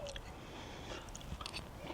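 Someone munches on baked stuffed peppers topped with melted cheese, soft wet chewing and biting sounds up close, low and steady for a couple of seconds with no talking.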